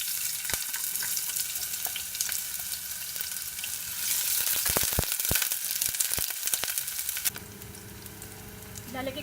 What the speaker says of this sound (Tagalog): Ilalagay ko na po ang ating sibuyas or onion.